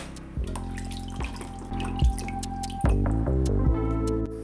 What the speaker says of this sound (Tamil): மட்டனை நல்லா 2 டைம்ஸ் கழுவிட்டு எடுத்து வச்சுக்கணும்.